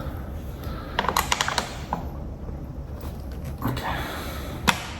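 Screws are tightened during office furniture assembly. Short bursts of clicky ratcheting and creaking come close by, one cluster early on and a sharper click near the end, with quiet stretches between.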